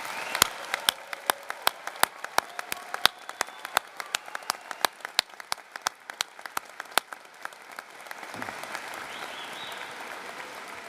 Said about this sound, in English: Please join me in a well-earned round of applause for the class of